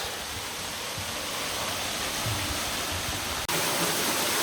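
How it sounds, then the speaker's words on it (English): Buderim Falls in Queensland pours in a dense, continuous roar of falling water, loud and steady throughout with a brief dropout near the end. "So if we look over there to my right, we'll see there the Buderim Falls."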